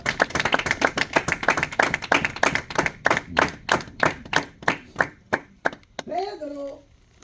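A church congregation at a Bible study claps in a quick rhythmic burst that gradually slows and thins into separate claps, then a voice begins speaking at the end.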